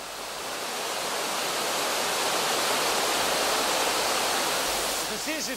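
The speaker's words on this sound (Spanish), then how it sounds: "Es extraordinario sentir el poder del agua cayendo." Water pours down a cascade in a Mediterranean garden's grotto, a loud, dense, continuous rushing roar heard close by, with a brief voice near the end.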